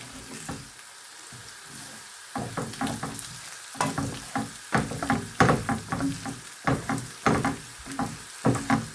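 Rice toasting in a pan for chicken pilaf while a spoon stirs it, giving a steady sizzle broken by repeated scraping strokes close up, with no talking.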